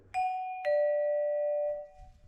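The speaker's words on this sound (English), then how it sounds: "glockenspiel," Glockenspiel-style doorbell tone: two clear metallic struck notes in quick succession, each ringing with a bright sustained shimmer before stopping together, close and alone.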